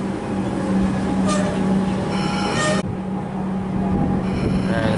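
Melbourne City Loop train led by unit 473M pulls away from Glenroy station, a steady loud rumble of wheels and motors with a constant hum, a brief squeal near the start and a sudden drop partway through.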